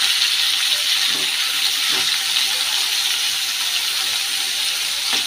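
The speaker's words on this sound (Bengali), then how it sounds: "এখন মাছটা এইভাবে একবারে ডাইরেক্ট ঢেলে দিয়ে ভাজবো।" Fish poured all at once into hot oil in a pan, giving a continuous bright, hissing fry that holds steady throughout with a few faint clinks, near and without talk.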